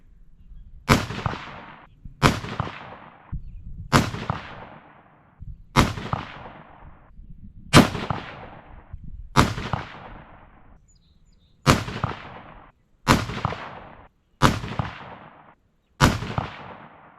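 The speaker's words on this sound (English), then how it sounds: "We'll do a 10-shot group on this one." Ten sharp rifle shots ring out at an outdoor range, spaced roughly two seconds apart and each followed by a short decaying echo, with quiet between them.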